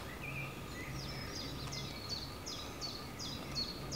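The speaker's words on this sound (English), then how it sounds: "That's a chiff chaff." A chiffchaff warbler calls outdoors, a faint, distant series of repeated high two-note chirps in a steady rhythm over a soft background hum.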